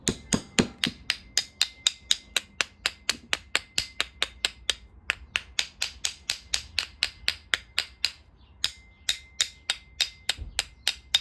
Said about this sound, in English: I'm gonna tap it with this other screwdriver.